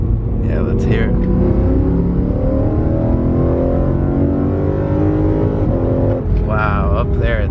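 A BMW E92 M3 with a carbon fiber plenum intake revs hard and climbs steadily toward high rpm, a loud, close engine and intake roar with rising harmonics, briefly dipping near the end before climbing again, while people talk over it.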